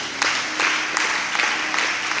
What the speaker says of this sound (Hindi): इनके लिए फिर से ताली बजाते हैं।